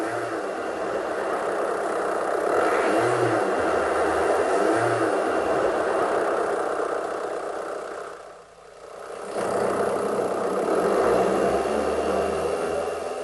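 A diesel engine with electronically controlled injection pumps runs steadily with a broad mechanical drone, dipping briefly before it rises again as it is revved.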